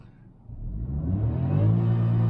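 A Ford Figo Titanium manual's BS6 petrol engine starts quiet, then revs up steadily toward 7,000 RPM, the hum rising in pitch and loudness into a strong close drone, with no talk over it.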